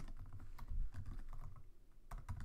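Fast keystrokes on a computer keyboard while writing Python code, close and clear, in quick irregular bursts with a short pause midway.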